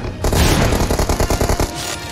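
A loud boom followed by a rapid burst of automatic gunfire in PUBG, dense and close, then a brief fading tail.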